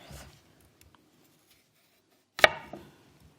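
Potatoes sliced with a knife on a cutting board: a faint cut at the start, near silence, then one sharp, close chop that rings briefly before fading.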